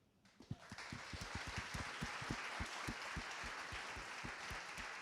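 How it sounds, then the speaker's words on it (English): Conference audience applauding on a main stage, a dense burst of many hands clapping that starts abruptly and keeps an even, fairly distant wash of claps throughout with no voices on top. "So I think that deserves a round of applause."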